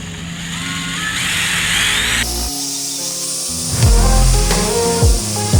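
A power drill bores a hole for installing LS hood hinges, whining steadily as it cuts, then stopping briefly before several shorter bursts of drilling with rising and falling motor pitch.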